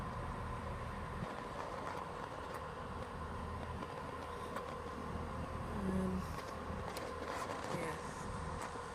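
Train waiting at Shrewsbury station on the Welsh Marches line, a steady low engine rumble with platform ambience and faint background voices throughout.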